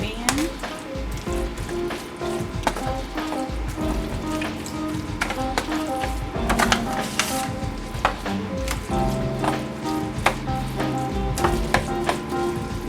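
A meatloaf mixture sizzles and fries in a pan while being stirred, with a continuous crackling hiss broken by repeated scraping and clacking of the spoon.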